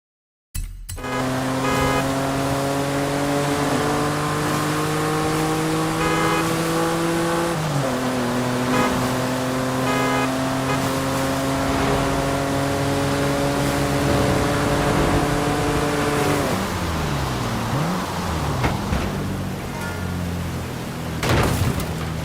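A Jeep driven at high speed in the video game Forza Horizon 5 gives a loud, sustained engine drone whose pitch holds steady, dips briefly and climbs again, then falls away near the end as the revs drop.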